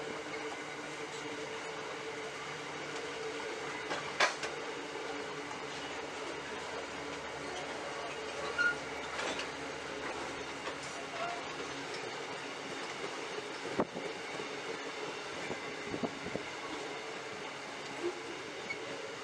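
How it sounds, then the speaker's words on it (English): A loaded zinc freight train hauled by two Queensland Rail 4000 class locomotives passes through Roseneath, a steady broadband rolling rumble with wheel clatter and occasional sharp clicks, heard from nearby throughout without talk. "4013 and .4019 work 9257, Yerby to Townsville loaded zinc train through Roseneath"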